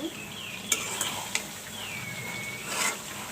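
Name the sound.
stirring meat frying in a pan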